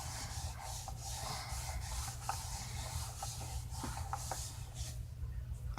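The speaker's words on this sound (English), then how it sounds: "I'm going to take a clean piece and just go over it a little bit more, try to make sure I get up any excess oil" A clean sheet of paper rubs back and forth over a crayon-coloured paper background to lift excess crayon oil, giving a soft, continuous scratchy swishing close up with a few light taps.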